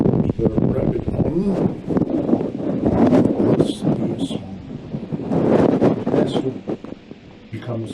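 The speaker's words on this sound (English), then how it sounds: "The wind is coming from here." Gusty wind buffets a field-recording microphone fitted with a furry rabbit windshield, a dense low rumble that swells and eases throughout, with occasional rustling bursts on top.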